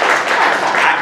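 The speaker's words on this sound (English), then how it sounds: "Golf clap." A short burst of dense, steady applause from a studio audience at a talk show, filling about a second without pause.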